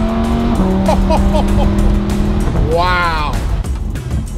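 A brand-new supercar on the move: a steady engine drone drops in pitch at a gear change, then swells into a rising rev. A voice exclaims briefly over the engine.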